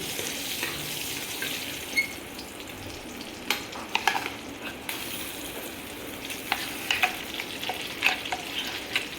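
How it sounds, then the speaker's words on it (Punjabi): Moong dal batter poured into hot ghee over a low flame and stirred for halwa: a soft, steady sizzle with scattered scraping and clinking from the stirring, fairly quiet and with no talking. "ਹੁਣ ਆਪਾਂ ਪਾਵਾਂਗੇ ਦਾਲ ਦਾ ਬੈਟਰ ਜਿਹੜਾ ਆਪਾਂ ਦਾਲ ਆਪਾਂ ਗ੍ਰਾਈਂਡ ਕੀਤੀ"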